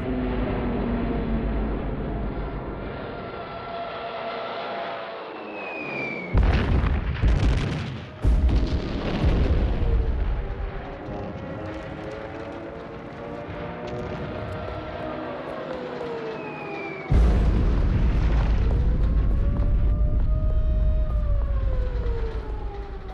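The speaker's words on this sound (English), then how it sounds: "On the 25th of September, Hitler orders the bombing of Warsaw" Bombing of Warsaw in WWII archive footage: loud explosions and blasts boom out over a wailing, sweeping siren-like tone, with heavy impacts around six, eight and seventeen seconds.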